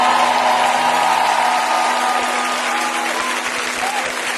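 A church congregation breaks into sustained, dense applause, loud and continuous across the whole stretch, easing only slightly toward the end, with a faint crowd murmur beneath.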